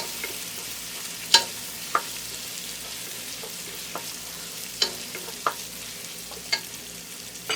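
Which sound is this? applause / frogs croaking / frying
frying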